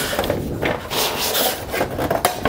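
A 3-meter-long roll-up banner is handled close by, giving continuous loud rubbing, scraping and rustling with a few sharper snaps.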